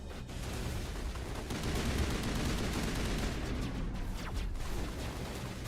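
Gunfire in Mass Effect 1 rattles through a constant noisy battle bed, with a few sharper cracks standing out briefly over the steady din.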